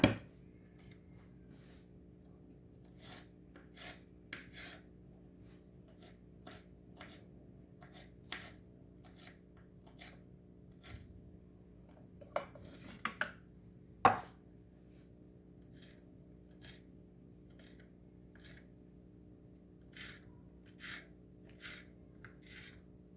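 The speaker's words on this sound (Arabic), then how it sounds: "وغادي نقطع هاد الفليفله" A knife chops peppers on a board in a kitchen with steady, evenly spaced crisp strikes, fairly quiet over a faint background hum, with a brief flurry of faster cuts midway.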